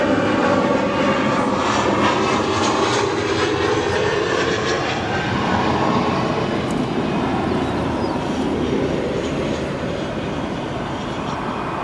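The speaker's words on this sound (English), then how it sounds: "Nice touchdown there on 10 center" United Express jet landing on runway 10 center at O'Hare, a sustained engine roar with a whining edge that stays fairly even and slowly eases, moderately distant with no talk.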